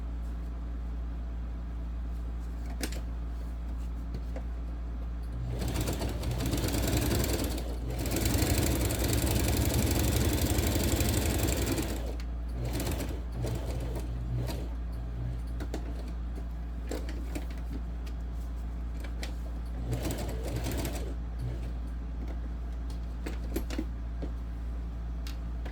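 A home sewing machine stitches a quilted seat belt cover, giving a close, rapid mechanical whir in bursts. The loudest run sits near the middle, with shorter start-stop stitching before and after under a steady background hum.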